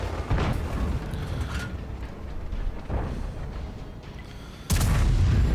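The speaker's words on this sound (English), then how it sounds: "Puts a beautiful shot into the side of the Chinese tank destroyer." Tank cannon fire in World of Tanks: several heavy booming shots with rumbling tails, one striking at the start and a sharper, louder blast near the end, no voices.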